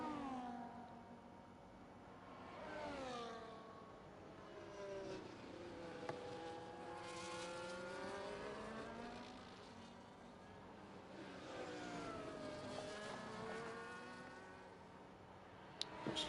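Race car pulling out of the pit lane at Baku in a racing game: engine whine sweeping up and down through gear changes, faint and steady, with other cars' engines droning in the background.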